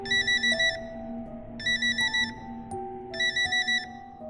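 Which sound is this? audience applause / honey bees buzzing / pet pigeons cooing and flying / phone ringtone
phone ringtone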